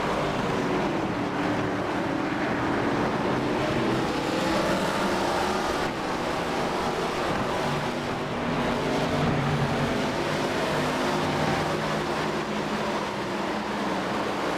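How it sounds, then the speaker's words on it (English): Race car tires screeching through the S-curves in an iRacing NASCAR Chevrolet race at Homestead-Miami Speedway, a continuous loud roar of engines with strained tire squeal layered steadily over the whole stretch. "You hear the tires screeching as they fight it right through the S's."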